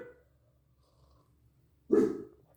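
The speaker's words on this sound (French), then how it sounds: "Et du chien qui aboie." A single dog bark, fairly close, breaking a quiet indoor scene with low background hum, preceded by a faint sound at the start.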